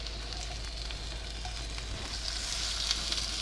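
Shrimp sizzle steadily in a hot pan, a soft continuous frying hiss with faint crackles throughout, alone with no talk, over a low steady hum.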